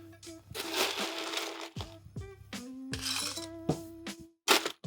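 Ice cubes dropped into a Trader Sam's tiki mug for holiday tiki drinks, giving bright clinks and clatters in a few bursts, close and fairly loud, with short gaps between drops.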